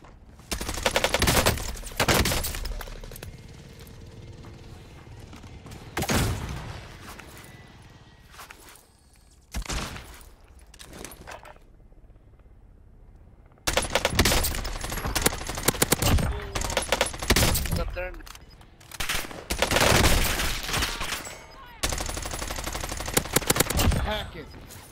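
Bursts of FFAR assault-rifle gunfire in a Vanguard Warzone match, loud repeated automatic volleys separated by short pauses, with footsteps and light movement between bursts.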